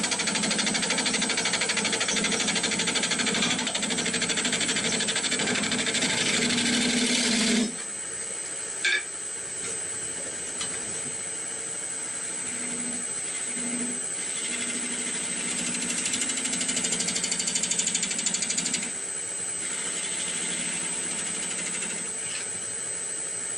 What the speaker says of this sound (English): I'm going to try my bowl gouge